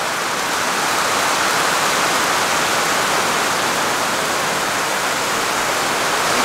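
Dense, steady roar of heavy rain pouring down in Costa Rica, loud and unbroken throughout with no voices, drowning out a nearby river.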